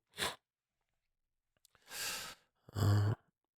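Three separate coughs from one person, spaced over a few seconds, close and fairly loud, the last one the strongest, with near silence between them and no talk.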